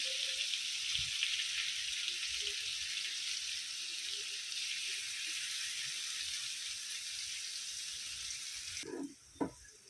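A ground paste of yogurt and coriander sizzles in a hot pan, a steady faint frying hiss that runs throughout, then ends abruptly with a couple of soft knocks.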